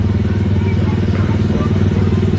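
A slow-moving ride car at Disneyland Paris drives along with a steady, loud engine-like rumble and faint clatter, continuous throughout, with a person talking over it.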